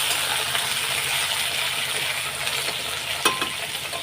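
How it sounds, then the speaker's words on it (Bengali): Small new potatoes fry in a pan with a constant close sizzle and occasional faint scraping and one brief clink, and no one speaks. "এবার আলুগুলোকে একটু ভেজে নেবো লাল লাল করে"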